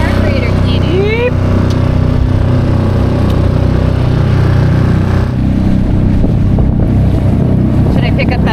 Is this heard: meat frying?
no